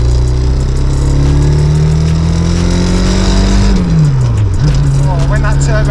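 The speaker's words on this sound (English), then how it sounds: "when that turbo comes in, it sounds unbelievable." A rare rally car engine revs hard with its turbo spooling, loud and close, holding a high steady drone before the pitch dips and then climbs again.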